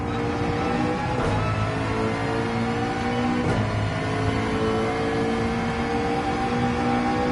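A McLaren race car engine in Gran Turismo 7 drones steadily and loudly throughout, its tone holding even, with a couple of faint brief transients partway through.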